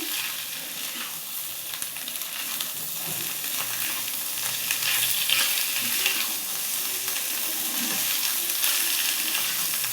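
Bitter gourd frying in a pan, a steady close sizzle with light, uneven scraping as it gets tossed and stirred throughout.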